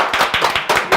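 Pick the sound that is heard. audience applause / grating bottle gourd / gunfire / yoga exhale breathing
audience applause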